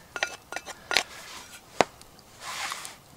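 A small cast iron skillet being handled and loaded in an outdoor bushcraft setting: several sharp metallic clinks and knocks, close and fairly quiet, followed by a soft rustle.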